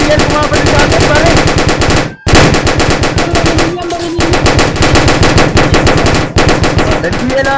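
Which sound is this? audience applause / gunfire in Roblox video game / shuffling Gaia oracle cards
gunfire in Roblox video game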